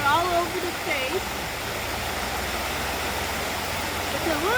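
Steady, loud rush of a waterfall at a campsite, a continuous broadband roar filling the whole stretch, with faint birdsong high above it.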